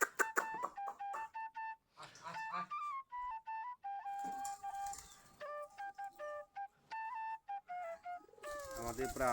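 Giribaj pigeons coo repeatedly at close range while feeding among chicks, their soft rolling calls coming in short, uneven bursts with quiet gaps between.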